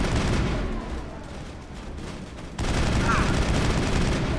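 Shotgun and other gunfire in the sci-fi shooter Mass Effect: a dense, continuous barrage of blasts and impacts that eases slightly, then surges back louder midway through.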